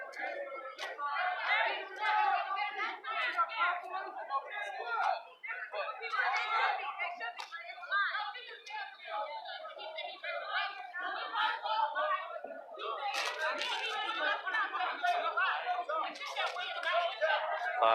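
Nighttime street riot crowd with many voices shouting and chanting continuously, a dense roar of overlapping yells close by that swells and dips without pause.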